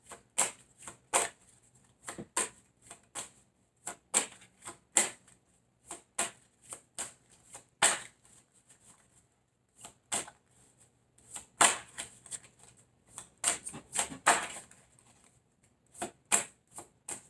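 Tarot cards are shuffled in quick, crisp bursts of riffling and snapping, repeated irregularly and close up, with short quiet gaps between them.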